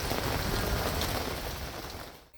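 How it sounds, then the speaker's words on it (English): Heavy rain falls steadily in a dense, close hiss of drops on surfaces during a spring day along Highway 1, loud and constant before easing slightly at the end. "but it rained and rained."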